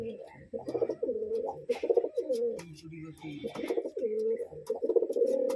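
Pigeons of the Biskits Colour variety coo repeatedly from inside their loft, a close, throaty series of rolling calls with brief pauses between bursts.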